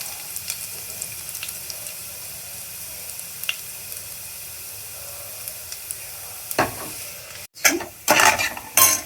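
Curry leaves frying in hot oil in a pan for a Tamil tomato kochi: a steady close sizzle with faint crackles, then louder bursts of spattering near the end, with no talking.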